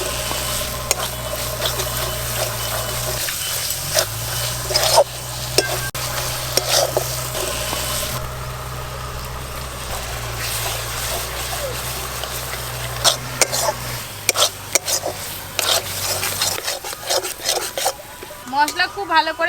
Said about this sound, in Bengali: মশলা খুব ভালো করে কষানো হয়ে গেছে